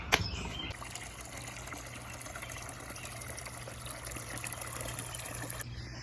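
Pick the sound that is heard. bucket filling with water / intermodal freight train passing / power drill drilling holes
bucket filling with water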